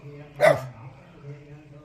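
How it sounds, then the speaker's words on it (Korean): A dog barks once, sharp and close, at a Buddhist temple in the Jucheon valley at Samnangjin, Miryang, with a voice around it. "멍멍이가"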